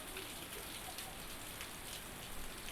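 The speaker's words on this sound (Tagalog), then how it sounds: "umuulan pa rin" Rain falls steadily in a soft, even hiss, pattering on surfaces nearby with no voices, during a flooding storm in the Philippines.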